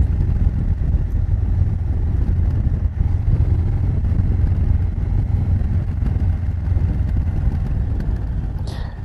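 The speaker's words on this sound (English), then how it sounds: "I really wanted to capture the sound of this motorcycle in the best quality available." Close-up exhaust note of a Honda Africa Twin motorcycle, a loud, steady low-pitched engine rumble that runs unbroken throughout, with some wind buffeting on the microphone.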